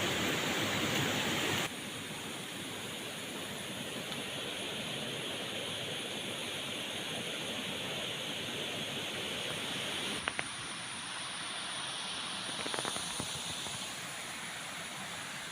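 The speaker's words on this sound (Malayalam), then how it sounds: "അപ്പോൾ ഇവിടെ നിന്നും ഈ താഴേക്ക് വെള്ളം വീഴുന്ന ഭാഗമാണ് ശരിക്ക് അമ്പനോളി വാട്ടർഫാൾസിൻ്റെ വ്യൂ" The Ambanoli waterfall pours down in a steady, broadband roar of falling water, dense and continuous, with a brief tap or knock partway through.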